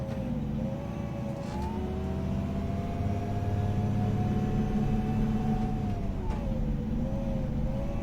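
An Iveco Evadys coach in the OMSI 2 bus simulator pulls away from a rolling start, its engine a steady loud drone rising gradually in pitch as it accelerates, with no talk over it.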